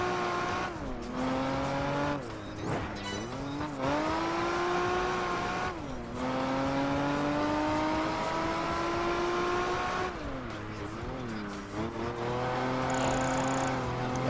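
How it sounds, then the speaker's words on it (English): Racing car engine in Project Gotham Racing 4 revving and shifting through gears during a power slide, with sustained loud engine tones rising and dropping over several gear changes and a faint squeal near the end. "That was a good power slide made by these scholars."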